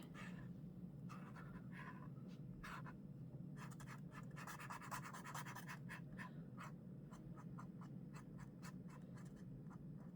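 A paint marker swatches across paper in short, quiet scratchy strokes, a close series of brisk scribbles over a low background hum.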